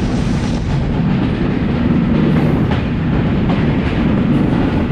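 The Chitra Express pulls into Chuadanga railway station with a loud, constant rumble and rolling wheel clatter that fill the whole stretch, and no voices are heard.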